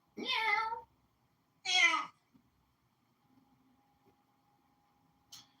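A person imitates a cat, giving two drawn-out meows close to the microphone, followed by quiet room hum and a faint click.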